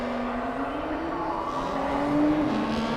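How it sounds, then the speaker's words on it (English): Several BMW 235i race cars idle and rev close together in a pit lane at Motegi East Course in RaceRoom Racing Experience, a steady loud engine drone with rising and falling revs throughout. "these cars, once you get them all close together, make for a right racket"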